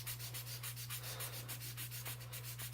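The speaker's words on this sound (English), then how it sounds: "sand it really well now" Sanding putty on a plastic model kit gives steady, close rhythmic rubbing strokes, each swipe a soft scratchy burst, with a constant low electrical hum running underneath.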